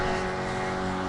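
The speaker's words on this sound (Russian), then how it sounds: "Вот это моторка. Ох, хорошо идет." A steady 18-horsepower Mercury outboard motorboat engine drones at close range, a continuous hum holding level without pause.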